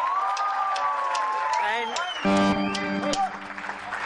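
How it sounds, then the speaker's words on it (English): An audience at a students' day event applauds the orchestra, clapping and whoops mixed with voices and musical tones, with a brief spoken word at the start. "a loud applause for the orchestra."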